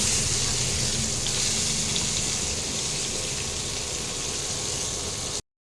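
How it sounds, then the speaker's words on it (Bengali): Potatoes tossed with turmeric frying in hot oil: a dense, even sizzling hiss, loud and close, running unbroken for over five seconds before cutting off, with no voices. "এবার আলুগুলোকে লাল লাল করে ভাজতে হবে"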